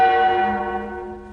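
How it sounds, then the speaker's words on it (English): A single large church bell rings out loud and close, and its deep, sustained tone fades slowly. "The bells, Master."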